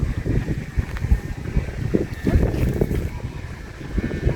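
A sumba hummer on a Lawin kite in flight drones continuously, fairly close, mixed with gusty wind buffeting and no clear speech.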